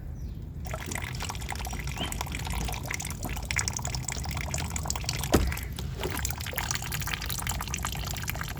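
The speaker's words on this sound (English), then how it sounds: "Now, disconnect the washer fluid hoses from the pump. Be prepared for some washer fluid to drain out." Washer fluid drains and trickles from disconnected pump hoses on a Kia Sportage windshield washer reservoir, a steady close liquid pour with one brief louder splash partway through and no talking.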